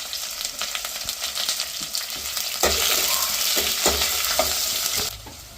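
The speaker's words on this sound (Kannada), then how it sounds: "ಸ್ಟಾರು, ಏಲಕ್ಕಿ, ಸೋಂಪು, ಪಲಾವ್ ಎಲೆ, ಆನಿಯನು ಇಷ್ಟನ್ನ ಚೆನ್ನಾಗಿ ಫ್ರೈ ಮಾಡ್ಕೊಳ್ಳೋಣ." Star anise, cardamom, fennel, bay leaf and onion for mutton biryani fry steadily in hot oil in a pan, with a bright continuous sizzle that swells louder midway and scraping stirring strokes, then cuts off near the end.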